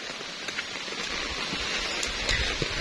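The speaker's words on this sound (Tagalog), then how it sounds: "Lakas ng ulan." Steady, heavy rain pours down in Bicol, Philippines, in a dense, continuous hiss, with occasional louder drops spattering nearby and no voices.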